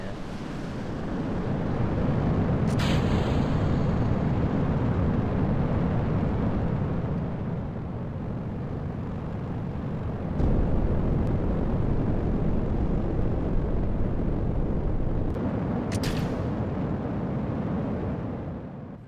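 A liquid-fuel rocket lifts off in the Mission Moonshot game, a steady, loud, broad roar rumbling for the whole stretch with a few brief sharp crackles and bursts over it, and no talking.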